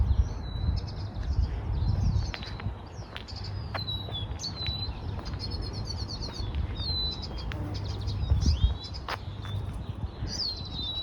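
Many birds chirp and trill in the distance, with scattered short calls over a steady low rumble of outdoor background noise.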